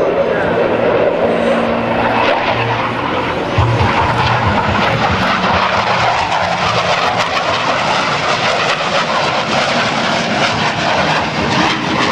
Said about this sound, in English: Now, from the right, the Super Hornet photo pass.